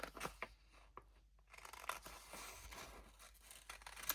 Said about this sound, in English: So I'm going to get my scissors and just